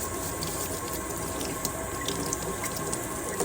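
Homegrown potatoes scrubbed under a running kitchen tap, a steady close rush of water splashing into the sink with faint scrubbing and drips throughout, no voices.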